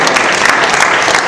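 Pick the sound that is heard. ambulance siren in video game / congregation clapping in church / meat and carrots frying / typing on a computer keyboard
congregation clapping in church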